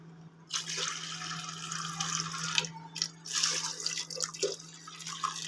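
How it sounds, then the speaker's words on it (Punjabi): Water splashes and trickles into a pot of moong dal in uneven bursts, over a low steady electrical hum. "ਇੱਕ ਵਾਰ ਮੈਂ ਇੰਨਾ ਕੋ ਪਾਣੀ ਪਾਉਣੀ ਆ"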